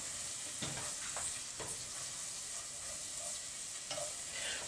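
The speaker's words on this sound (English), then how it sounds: "First you're going to add your onions, a little splash of oil in there to coat those onions and make sure they cook" Onions with a splash of olive oil cooking over medium heat in a pan, a steady soft sizzle with a few stirring scrapes, close by and with no talk.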